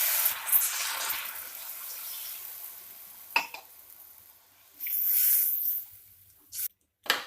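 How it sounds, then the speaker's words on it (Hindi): A cup of water poured into a sesame and rohu fish curry, heard as short splashy bursts and one longer hissing pour, close and fairly loud, with no one talking. "उसके बाद हम इसमें 1 कप पानी डाल देंगे।"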